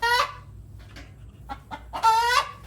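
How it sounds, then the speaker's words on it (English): Hens cluck nearby in a few short calls, with soft rustling between them; the scratching in straw itself is barely distinct. "we had some very happy hens scratching around in there"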